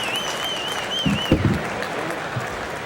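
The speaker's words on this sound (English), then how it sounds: "you can hear the patriotic crowd in the background" Patriotic boxing crowd in an arena before a heavyweight bout between Przemyslaw Saleta and James Wilder, giving a steady wash of applause and cheering with a whistle, plus a few louder thumps and shouts rising briefly out of the roar.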